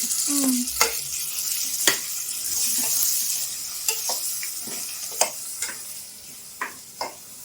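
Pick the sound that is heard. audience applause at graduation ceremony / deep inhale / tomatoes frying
tomatoes frying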